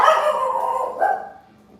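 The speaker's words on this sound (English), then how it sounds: "Dog says hi too." A dog indoors gives a short, close, drawn-out whiny bark or yip, then a second shorter one that trails off.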